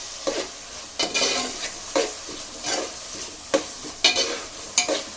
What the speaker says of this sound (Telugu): ఇలా చేసుకుంటే చూసారా, ఇలా బాగా వేపేసుకోవాలి